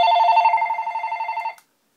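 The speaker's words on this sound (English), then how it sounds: "the phone's ringing" A telephone rings with a single loud, pulsing electronic trill that lasts about a second and a half and then stops abruptly, close by with no talking.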